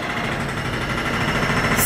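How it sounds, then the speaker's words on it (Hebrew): A jackhammer pounds away at railway renovation works nearby, a loud, continuous rapid rattling that carries on without a break, with no talk heard over it. "יש כאן שיפוצים של הרכבת, כאילו לא מספיק לי הכביש"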